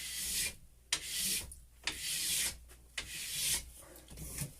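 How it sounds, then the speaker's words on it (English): A plastic scraper rasps excess wax off a ski base in four or five firm strokes, each a bright scratchy pass broken by brief pauses, close and alone with no talking. "I just go down, scrape off the excess"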